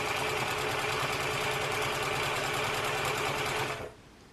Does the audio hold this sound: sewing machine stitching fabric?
yes